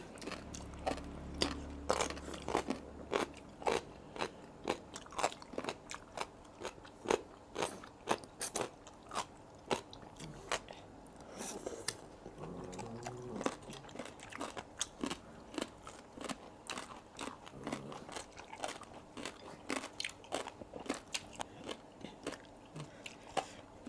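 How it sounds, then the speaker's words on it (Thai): Close-up crunchy chewing of a Thai pounded salad made with Chinese celery in the style of green papaya salad. Dozens of sharp, irregular bites and crunches sound near the microphone for the whole stretch, with no talking. "มีความเคี้ยวยากนิดหนึ่งแล้วเนี่ย"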